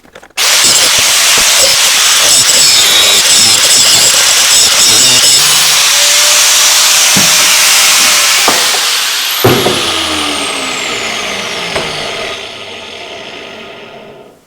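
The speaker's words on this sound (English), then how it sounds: "you just do it with the angle grinder" An angle grinder cutting metal makes a loud, sustained grinding noise with a harsh high whine, running steadily for most of the time before tapering off, with a few clanks near the end.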